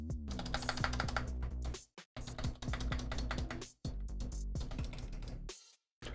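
Typing on a Razer Huntsman Mini 60% keyboard with light clicky switches, rapid crisp clicking bursts in quick runs separated by short silent gaps, close and clear, no talk.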